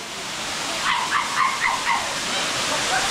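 Ermai waterfall at Ujire in Dakshina Kannada sends up a steady, close broadband roar of falling water, with a few short voices or calls rising over it around the middle.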